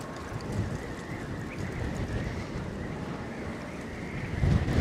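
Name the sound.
wind whipping around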